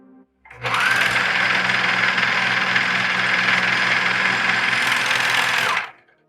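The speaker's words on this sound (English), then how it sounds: "Here's the basic 4-thread overlock, perfect for most seam finishes." A Juki MO654DEN serger runs a basic 4-thread overlock stitch, a steady, loud mechanical whir that starts up, holds evenly for about five seconds, then stops, with nobody talking.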